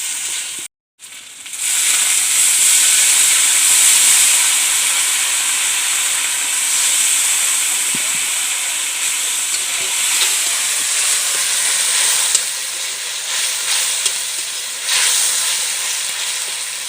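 Cumin paste with ginger-garlic paste frying in a pan, a loud steady hissing sizzle that runs on for many seconds after a sharp start, with occasional stirring taps, close by and with no voices.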